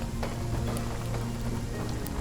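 Steady rain falls on a surface as a continuous patter with a low hum underneath and no voices.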